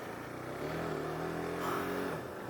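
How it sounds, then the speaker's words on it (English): A 2018 KTM RC390 motorcycle pulls away, its engine note rising and swelling with rhythmic harmonics as it accelerates, fairly quiet and heard alone. "We are off on the KTM 390, the RC390"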